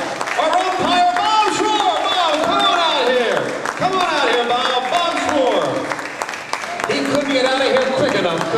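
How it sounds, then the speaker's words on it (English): An audience applauds the actors at a staging of Casey at the Bat, with steady clapping running under loud, continuous talk and cheers. "Round of applause for our actors, folks."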